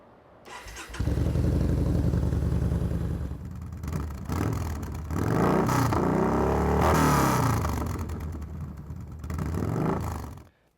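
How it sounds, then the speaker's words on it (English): A motorcycle fitted with a Vance & Hines Competition Series slip-on muffler cranks and fires up, settles into a loud, deep idle, then is revved repeatedly in rising and falling bursts, close to the microphone. "I think this Vance & Hines Competition Series muffler sounds pretty good."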